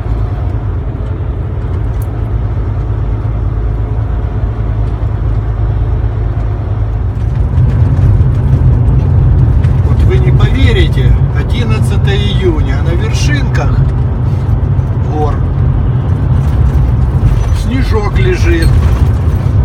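Car engine and road rumble hum steadily throughout, growing slightly louder partway through, with a voice talking over the driving noise.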